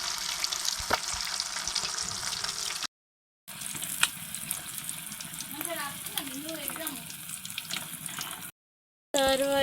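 Food deep frying in hot oil at home sizzles steadily, with stirring clatters and a few short gaps. A voice speaks over it now and then.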